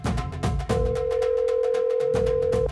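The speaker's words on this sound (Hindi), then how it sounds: "सुन रही हो ना, फोन बज रहा है।" A steady electronic ringback tone drones for about two seconds, framed by short pulsed phone beeps, heard clearly as through a phone speaker.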